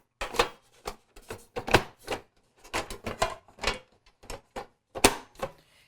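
Metal griddle plates being handled and clicked into place on a Deik contact grill, a string of irregular clattering knocks and scrapes, close and fairly loud, with brief pauses between bursts.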